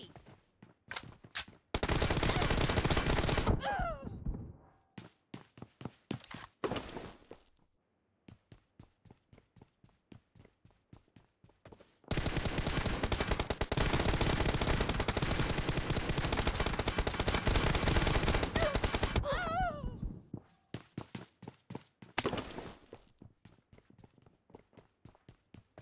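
Gunfire in a PUBG Mobile team deathmatch in a hangar: long sustained automatic bursts and scattered single shots, separated by quieter stretches of rapid footsteps.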